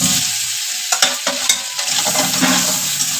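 Potatoes fry in a little mustard oil in a hot wok, giving a loud continuous sizzle broken by several sharp spatula scrapes and stirring knocks, with no talking.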